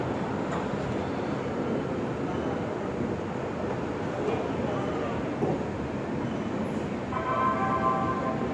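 The Indore-Daund Express rolls along with a steady, dense rumble and rattle of wheels on track heard from inside the coach, continuous throughout, with a faint high tone near the end.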